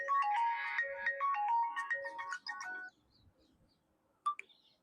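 Mobile phone ringtone on an outgoing call, a melodic electronic tune repeating its short phrases loudly and close for about three seconds, then quiet with a brief blip near the end.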